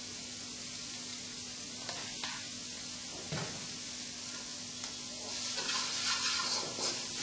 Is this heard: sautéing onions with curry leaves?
yes